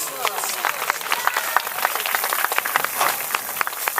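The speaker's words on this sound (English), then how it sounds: "give him a nice round of applause" A crowd applauds with scattered, uneven claps that continue steadily throughout, with voices mixed in.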